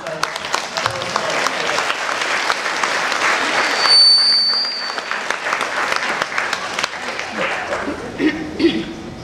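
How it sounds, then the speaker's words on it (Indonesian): Church congregation applauding at a building dedication service, a sustained wash of clapping with some chuckles and crowd murmur mixed in, and a brief high electronic tone partway through. "maka sekarang kita memberikan tepuk tangan yang meriah untuk Tuhan kita"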